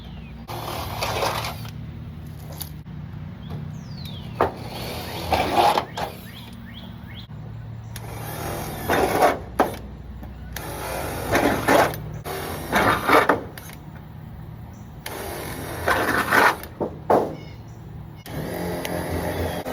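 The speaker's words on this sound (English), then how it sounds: "So now we are going to screw some holes through there and we'll almost be done." A power drill screws holes through the roof of a backyard chicken hoop coop, several whirring bursts of a few seconds each separated by pauses, close and fairly loud over outdoor background noise.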